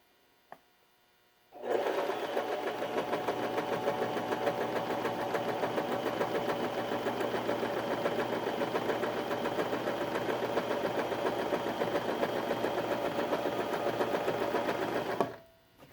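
A Janome 2212 sewing machine stitches fabric in one continuous run of about fourteen seconds, its motor and needle giving a steady, even mechanical whir that starts and stops abruptly, close up and with no talking.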